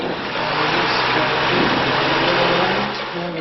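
A light aircraft engine runs at full throttle during takeoff on a flight in Guam, a loud, steady, unbroken drone that fills the cabin with no voices.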